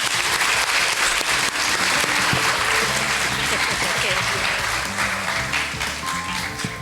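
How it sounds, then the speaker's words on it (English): Loud, dense applause fills a student leaders summit hall for a councilor, steady throughout, with voices and crowd noise mixed in beneath the clapping. "Let's give a big round of applause for Councilor Lester Baez"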